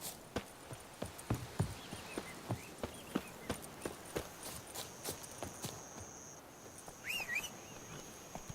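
Hooves of the horse Roach clip-clop in a steady, trotting rhythm across the ground in The Witcher, with faint bird calls and whistles in the background.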